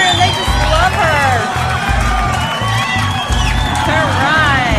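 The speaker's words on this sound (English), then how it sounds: "look at everybody cheering" A crowd cheers and whoops for the Good Witch of the South in a witch-themed parade, loud and close under voices talking over the noise, with pulsing low thumps underneath.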